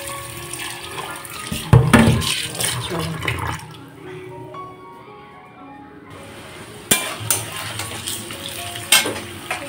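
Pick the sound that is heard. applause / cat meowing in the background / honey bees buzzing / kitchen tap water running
kitchen tap water running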